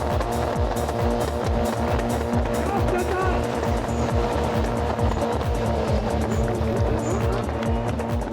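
Drift cars at the Drift Arena of the Athens Motor Show, engines roaring with rapid rhythmic revving pulses and tires squealing, loud and continuous throughout.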